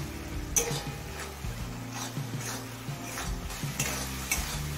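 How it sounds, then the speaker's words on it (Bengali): Spices fry on a high flame in a pan, sizzling steadily beneath a series of scraping, tapping strokes from a spatula stirring them, close and fairly loud, with no voices. "এবার হাই ফ্লেমে সমস্ত মশলা কিছুক্ষণ কষিয়ে নেব"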